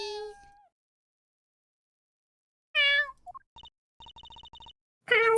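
In the Apollo Justice Trilogy game, a short falling cat meow sounds at the start, followed by silence and then rapid text blips and a brief voice.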